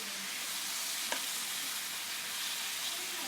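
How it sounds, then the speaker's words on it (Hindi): An egg and potato mixture sizzles and fries in a hot pan while being stirred, a steady close hiss with a faint scrape of a spoon partway through. "यहाँ पर इसको मिक्स करेंगे बिस्मिल्लाह और इसकी बुनाई करेंगे"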